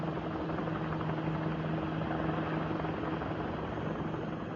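A helicopter with a tail rotor flies through a strong crosswind at about 25 knots, its steady broadband rotor roar with a low throbbing hum running loud and unbroken throughout, with no voices.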